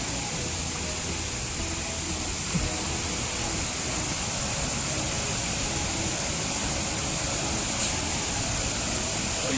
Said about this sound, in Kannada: ಜಲಪಾತ ಸೌಂಡ್ ಕೇಳ್ತಾ ಇದೆ.